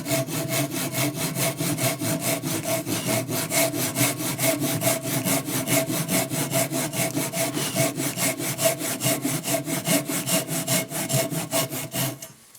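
A Japanese hand saw cuts wood for a tenon with steady, even pull strokes, a loud, regular rasping rhythm repeating about four times a second, close up and without talking.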